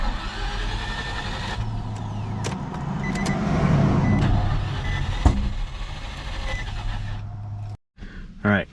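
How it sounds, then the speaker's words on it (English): An LS3 engine swapped into a G35 cranks repeatedly without firing, a steady churning whir for several seconds before stopping abruptly, with brief talk nearby. "It doesn't sound like it's even trying to fire."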